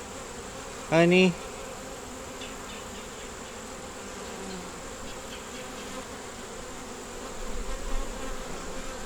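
Bees hum steadily around an open DD nuc hive full of brood, a soft continuous buzz close by, with a single short spoken word near the start.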